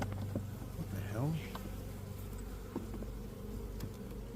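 Honey bees buzz around an opened hive during an inspection with children, a steady close swarm drone with occasional louder passes near the listener.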